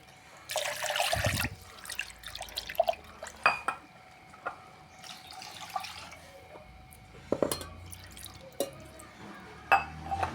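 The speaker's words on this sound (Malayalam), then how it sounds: "ആവശ്യത്തിനുള്ള വെള്ളം ചേർക്കാം." Water splashes into a pan in a short pour, followed by scattered drips, clinks and light stirring sounds, close and fairly quiet.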